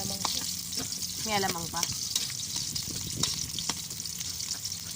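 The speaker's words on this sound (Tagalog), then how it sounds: "gigisa na po natin ng bawang at sibuyas" Garlic and onion sautéing in a pan, a busy close sizzle with scraping stir strokes and scattered pops, while a voice briefly speaks over the frying.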